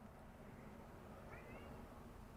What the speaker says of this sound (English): And I got a cat meowing.